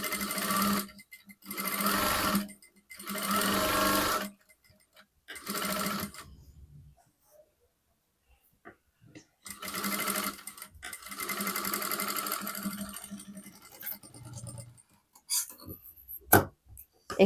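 Sewing machine stitching blouse fabric in bursts of fast rhythmic whirring, several short runs separated by pauses, close and clear.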